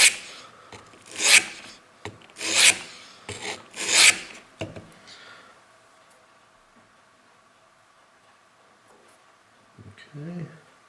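A knife blade is drawn lightly across a sharpening stone to take off a burr, making four distinct gritty scraping strokes in a steady rhythm, followed by quieter handling noises and a brief voice near the end.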